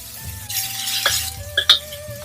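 Shredded pork sizzling in hot oil in a wok, a steady frying hiss with occasional scrape and clink of a spatula and a couple of sharper pops near the end.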